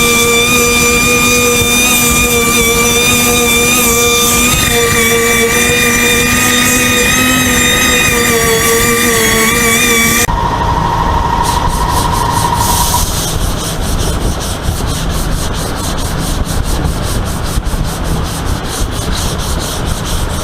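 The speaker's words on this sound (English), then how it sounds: "Now I can take the 80 grit, rough it up, and then start blocking." Steady, close rubbing of 80 grit sandpaper scuffing a body-filled automotive panel during a paint job, continuous strokes with a brief change in tone midway.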